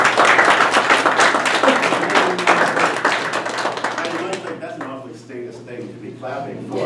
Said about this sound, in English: Clapping for reporting our finances.